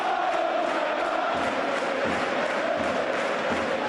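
Football crowd at the Valley stadium during a Charlton Athletic versus Fulham match, a broad roar of cheering that rises and holds as a steady wash of massed voices.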